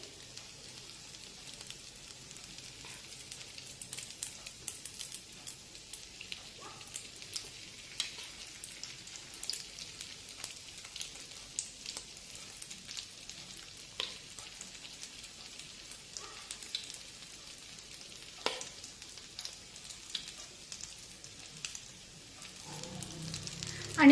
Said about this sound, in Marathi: आता गॅसची फ्लेम मध्यम ठेवून दोन्ही ब्रेडची स्लाइस आपण तेलामध्ये फ्राय करून घेऊ